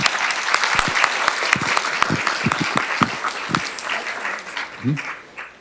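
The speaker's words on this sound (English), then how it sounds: "So give Lorie a big round of applause" An audience at a strategic planning session gives the event organizer a round of applause, dense clapping from many hands that fades toward the end as a voice begins.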